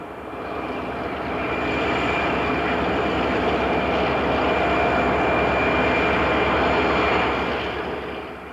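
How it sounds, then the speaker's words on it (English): An SD40-2 freight locomotive leads a passenger train in winter in 1987, producing a steady, loud rumbling drone with a faint high whine, swelling slightly and then easing off at the end. "The lead unit is an SD40-2 freight locomotive."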